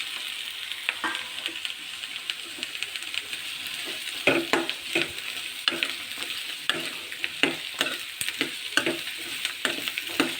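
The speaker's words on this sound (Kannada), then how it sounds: "ಸ್ವಲ್ಪ ಎಣ್ಣೆಯಲ್ಲಿ ರೋಸ್ಟ್ ಆಗೋವರೆಗೂ ಸ್ವಲ್ಪ ಬಾಡಿಸ್ಕೊಳ್ಬೇಕು." Chopped carrots sautéing in oil in a pan, a continuous sizzle under frequent scraping strokes of a spatula that grow louder and more rhythmic partway through, with no voices.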